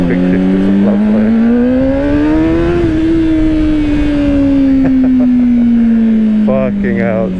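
A 2025 Honda CBR600RR inline-four sportbike engine screams loudly at high revs, pitch climbing then easing off in one long, smooth sweep, with a quick burst of shifting blips near the end and a voice talking under the roar.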